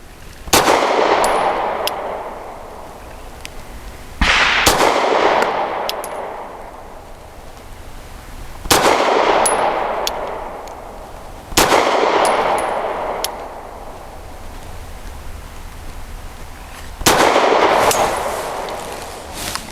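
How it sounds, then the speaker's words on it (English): Grand Power P1 Ultra pistol fired with Double Tap ammunition at 7 yards: five sharp, loud single shots spaced a few seconds apart, each leaving a ringing echo, with faint metallic pings between. "We're shooting from 7 yards"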